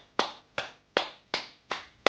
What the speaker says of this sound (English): Can we just give a round of applause for this mama?